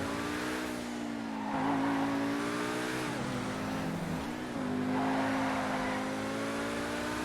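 A Lamborghini Huracán EVO Spyder in GTA 5 drifts with a loud, sustained engine note that rises and falls through revs, dipping briefly around corners, with faint tire squeal mixed in.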